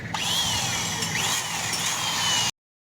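A power drill bores holes into an engine block with a 6.5 mm bit, a steady close grinding whine running for about two and a half seconds before stopping abruptly.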